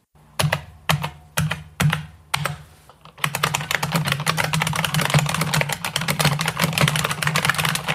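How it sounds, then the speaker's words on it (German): An IBM Model M mechanical keyboard: a few loud separate clacky keystrokes, then a dense, rapid run of continuous typing, close and sharp. "Und falls dieses Geräusch jemandem bekannt vorkommt, ja, mechanische Tastaturen klingen heute ähnlich"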